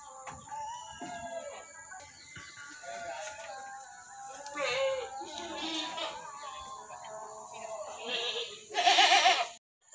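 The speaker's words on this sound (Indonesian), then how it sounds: "Banyak kambing sama sapi ya." Dairy goats bleating at a goat farm in Rokan Hulu, scattered calls near and far with a louder bleat toward the end, people talking in between over a quiet farmyard background.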